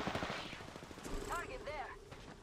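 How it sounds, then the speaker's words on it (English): Rapid bursts of gunfire in the video game Apex Legends, loud close automatic shots in quick succession with a voice talking over the fire. "Taking fire."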